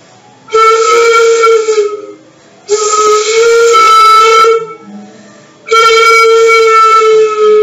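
Three long, steady flute notes blown one after another with short breaks, breathy and loud, each held for about two seconds.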